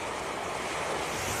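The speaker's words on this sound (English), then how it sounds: "waves have been crashing into people's homes" Storm surf from a nor'easter pounding the coast at Isle of Palms, South Carolina, a steady, dense roar of crashing waves mixed with wind buffeting the microphone, continuous and loud with no speech.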